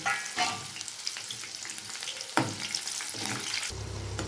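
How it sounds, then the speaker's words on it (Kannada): Green chillies frying in oil in a pan for pepper avalakki, a constant close sizzle with occasional louder crackles and stirring scrapes. "ನಾನಿಲ್ಲಿ ಮೆಣಸಿನ್ಕಾಯಿನ ಕರ್ಕೊಂಡ್ಬಿಡ್ತೇನೆ ರೀ."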